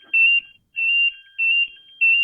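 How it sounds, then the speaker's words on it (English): A ringing alarm sounds in four evenly spaced electronic bursts, each a steady high tone lasting about a third of a second, loud and close with short silent gaps between. "The alarm's going off."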